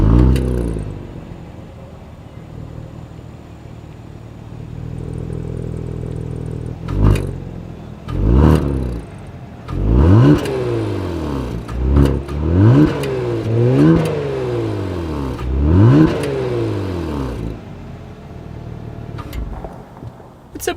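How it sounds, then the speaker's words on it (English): A 2022 Kia Stinger GT revved from the rear, its engine idling low before a series of sharp blips and sweeping rev climbs and drops that rise and fall repeatedly, loud and close to the exhaust. "here is that exhaust clip"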